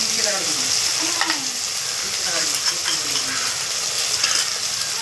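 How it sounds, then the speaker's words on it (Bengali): Ginger-garlic paste and spices sautéing with fried tomato in a pan, a steady close sizzle with scraping stirring strokes throughout. "আমি মশলাটা ভালো করে কষিয়ে নিচ্ছি"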